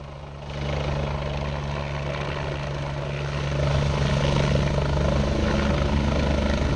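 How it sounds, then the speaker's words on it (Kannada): A chief minister's helicopter's steady rotor roar fills the air, growing louder and closer as it comes down at a helipad, with no voices. "ಅದು ಹೆಲಿಕಾಪ್ಟರ್ ಲ್ಯಾಂಡ್ ಆಗುವಂಥ ದೃಶ್ಯವನ್ನು ಕೂಡ ನಾವು ನೋಡ್ತಾ ಇದ್ದೀವಿ"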